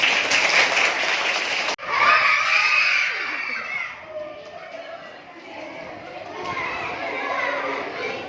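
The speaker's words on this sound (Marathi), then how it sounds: "मोठे टाळ्या होऊन जाऊ दे एकदा" Children at an English primary school clap briefly and loudly, then the clapping gives way to excited shouting, cheering and chatter from the young crowd.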